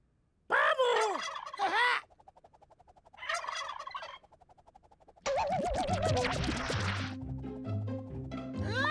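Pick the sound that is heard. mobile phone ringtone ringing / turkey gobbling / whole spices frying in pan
turkey gobbling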